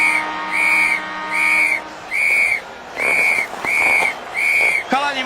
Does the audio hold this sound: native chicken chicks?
no